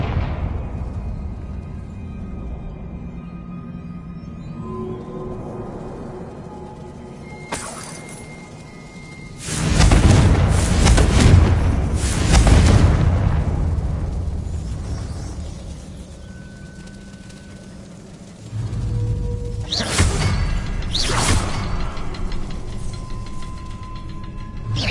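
Confringo blasting spell from the Hogwarts Legacy video game: two loud explosive bursts a few seconds apart, each a broad crackling blast that rumbles and fades, set against a quiet ambient background.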